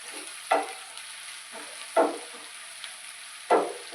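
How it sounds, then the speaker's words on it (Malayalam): Onions sautéing in a pan for Kerala-style chicken thoran, with three distinct bursts of stirring at steady intervals over a soft, continuous background sizzle, close and fairly quiet. "അപ്പോൾ നമ്മുടെ ഉള്ളിയൊക്കെ നന്നായിട്ട് വഴണ്ട് വന്നിട്ടുണ്ട്"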